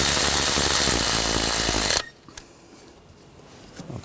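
A power tool whirs loudly and steadily for about two seconds while tightening a screw during a Ford Escape upstream O2 sensor install, then stops abruptly, leaving faint clicks and handling noises.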